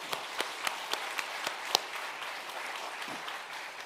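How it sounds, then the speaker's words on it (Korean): A church congregation claps together in praise, a scattered burst of applause with sharp individual claps near the start, then thinning into a softer, diffuse patter. "우리 하나님께 영광의 박수 한번 드리겠습니다."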